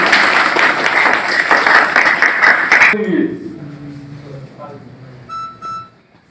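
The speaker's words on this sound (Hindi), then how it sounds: "एक बार जोरदार ताली" Loud applause from a crowd at an office inauguration, where a new building's office is opened with a ribbon cutting, fills the first three seconds and then stops abruptly, followed by quieter murmuring, a few beeps and faint talk.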